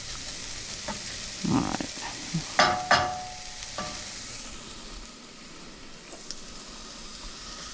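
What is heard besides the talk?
cumin seeds toasting in a pan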